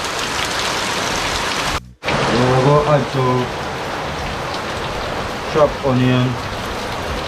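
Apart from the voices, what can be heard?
heavy rain falling outside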